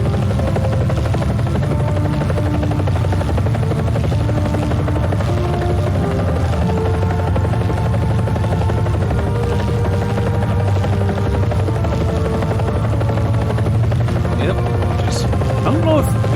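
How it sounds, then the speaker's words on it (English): A Canberra bomber flies in a combat flight game, its engine drone a steady, loud, continuous roar with a faint buzzing edge, holding even throughout with no talk over it. "Pretty much I'm just watching the Canberra fly around"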